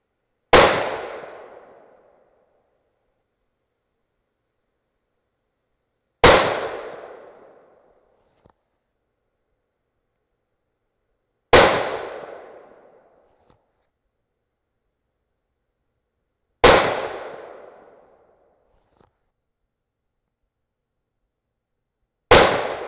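Rifle fired with a Silencerco muzzle brake on an outdoor range: five loud, sharp shots spaced about five seconds apart, each a crisp crack followed by a ringing, fading decay, with quiet between.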